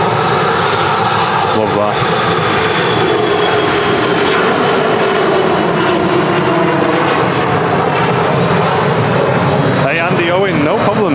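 A Scandinavian Airlines jet roars steadily at Manchester Airport, a loud continuous engine rumble with voices talking over it.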